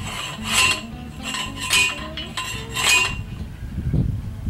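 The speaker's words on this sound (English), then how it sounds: "In case anybody don't know what a post driver is, just put posts in the ground." A post driver pounds fence posts into the ground on a farm, giving three or four loud metallic clanks spaced about a second apart, with a rougher thud at the end.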